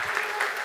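Conference audience at a round-table panel in Morocco clapping to welcome a speaker onto the stage, a short, even burst of crowd applause at moderate level.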